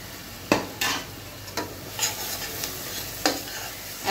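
Half-fried onions sizzle in a pan for a creamy chicken dish, a steady close frying hiss broken by several sharp scraping stirs of a spoon against the pan, with no talking.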